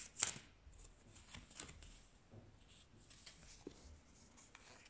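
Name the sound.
shuffling tarot cards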